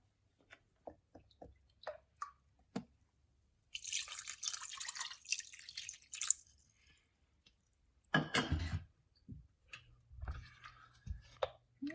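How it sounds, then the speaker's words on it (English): Almond milk is poured into a pan, a quiet, close stream of liquid lasting a few seconds, followed by a second brief pour and scattered small clicks and drips. "because we're going to add our almond milk"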